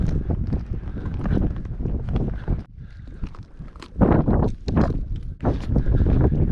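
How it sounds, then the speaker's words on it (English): Gusty wind buffeting the microphone beside a mountain lake, loud low rumbling bursts that drop briefly and surge back in uneven waves. "I apologize for the wind, but it's kind of what we got to battle with today."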